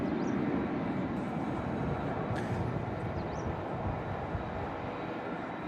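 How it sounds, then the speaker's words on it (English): An Emirates A380 airliner taxis at Manchester Airport, a broad, steady engine rumble and roar heard from a distance, with a few faint chirps over the top. "As the Emirates A380 taxiing all the way in back to Terminal 1 here in Manchester"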